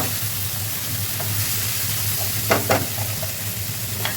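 Light frying in a pan while cooking a dried-shrimp dish, a steady low sizzle with a couple of brief stirring scrapes near the middle, no talking.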